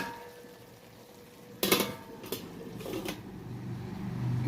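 Amaranth greens being stirred in a covered cooking pot, with a loud clatter of the lid or utensil near the start, then a few lighter scraping knocks over a steady low cooking hiss.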